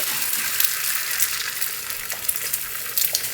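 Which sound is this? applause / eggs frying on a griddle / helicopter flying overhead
eggs frying on a griddle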